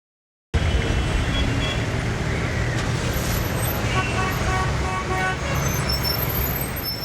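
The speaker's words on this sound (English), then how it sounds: "Rush hour traffic is endemic." Rush hour traffic jam in a busy city, a steady rumble of engines with scattered car horns tooting near and far throughout.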